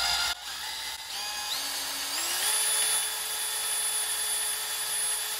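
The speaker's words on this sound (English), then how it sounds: "After about 10 to 15 minutes of drilling," A high-pitched drill whines steadily and continuously while drilling into the metal case of a Mercruiser Alpha outdrive lower unit, its pitch rising slightly as it bites in, sustained close by without any talking.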